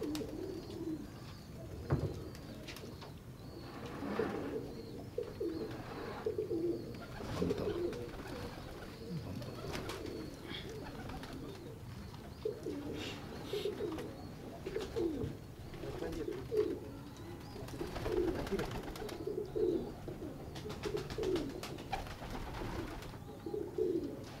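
Chinese-breed pigeons coo softly in repeated low, throaty phrases that come in an uneven rhythm, with faint rustling between the calls.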